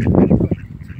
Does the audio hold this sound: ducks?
yes